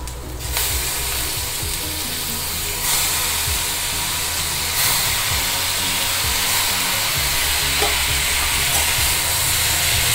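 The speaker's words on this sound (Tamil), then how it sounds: "வெங்காயம் கொஞ்சம் வதங்கிடுத்து இப்போ வந்து நம்ம கத்திரிக்காயை போட்டுடலாம்." Brinjal frying with onions in a pan for a brinjal drumstick curry, a loud continuous sizzling hiss that holds steady throughout, with no talk.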